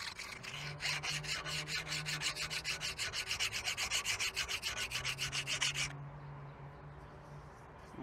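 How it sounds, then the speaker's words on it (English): A metal file smooths burrs on a bending jig in quick, even back-and-forth rasping strokes, close and moderately loud, for about six seconds before stopping, leaving a faint low hum. "just take a file and smooth these things out"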